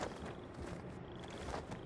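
A cat purrs in the Genshin Impact video game, a soft, steady, low rumble that runs through the whole moment with a couple of faint tonal game chimes above it and no talking.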